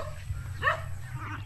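A dog gives a single short, sharp bark over a low background hum.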